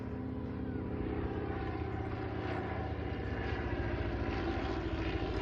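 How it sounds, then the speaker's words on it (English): A Nieuport 17 vintage aeroplane's engine drones steadily and loudly throughout at a race day, a continuous rough propeller roar with no pauses and no talk. "the aircraft you see here, the Newport 17"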